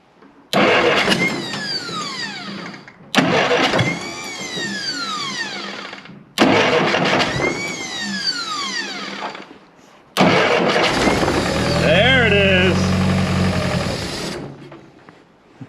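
An old Jeep Willys engine cranks with a whining starter three times in short bursts, then on the fourth try it catches and runs roughly with a low rumble.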